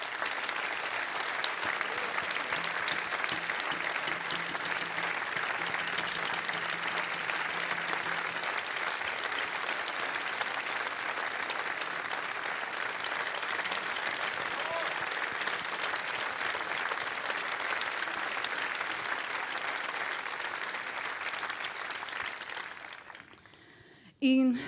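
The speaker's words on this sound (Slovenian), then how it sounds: "zato en aplavz za vse njih" Sustained applause from an audience for the Kraška pihalna godba wind band at an outdoor summer evening concert, steady dense clapping lasting over twenty seconds before fading abruptly at the end.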